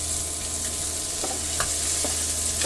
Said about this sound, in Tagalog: Nagpainit na po ako ng kawali and then nilagyan ko na po ng mantika. Magigisa po tayo ng sibuyas, bawang at kamatis.